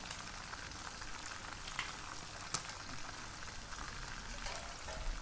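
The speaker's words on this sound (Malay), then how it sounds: "Now kita goreng dia, make sure that dia betul-betul masak." Boiled, marinated chicken for nasi ayam fries in a pan, giving a steady, soft, continuous sizzle with occasional faint pops, heard alone.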